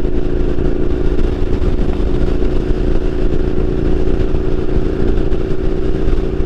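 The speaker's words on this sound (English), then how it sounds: "Did I pick up like 100 motorcycles behind me?" A large pack of Harley motorcycles rumbling along behind a rider, a loud, steady low engine drone with constant wind and road noise and no talking.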